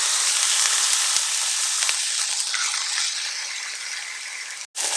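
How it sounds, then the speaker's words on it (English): Steady, bright sizzling of lamb shoulder chops frying in hot oil, a dense crackling hiss that fades slightly, with a brief clatter and gap near the end. "Lamb shoulder chop I have. I'm gonna fry this."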